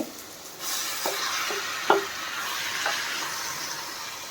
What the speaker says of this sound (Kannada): ಈಗ ಮ್ಯಾರಿನೇಟ್ ಮಾಡಿರೋ ಚಿಕನ್ ಹಾಕ್ಕೋತಾ ಇದ್ದೀನಿ